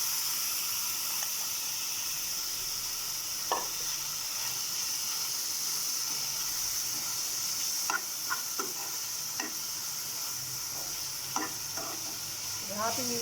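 Marinated beef pieces frying in a spoonful of hot oil in a pan for beef tikka pizza, a continuous close sizzle broken by scattered sharp clinks and scrapes of stirring, without talking.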